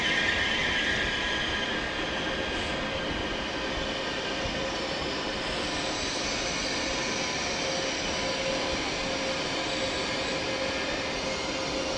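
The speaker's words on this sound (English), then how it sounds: "Meanwhile, there's the ICE3 arriving, don't know where from." An ICE3 high-speed train arriving at Frankfurt Hauptbahnhof, a loud continuous rumble and hum of the moving train with a high whine, close by and steady throughout with no talk.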